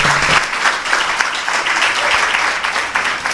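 A church congregation applauds during a sermon, a loud, continuous roll of many hands clapping together for several seconds, with no voices standing out.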